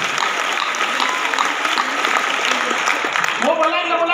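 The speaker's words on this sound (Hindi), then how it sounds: "ताली वाली बजा दो यार जरा भाव" Audience applause at a live poetry recital by a well-known poet in Mandideep, a dense steady clatter of many hands that holds loud for several seconds before tapering as a voice starts speaking near the end.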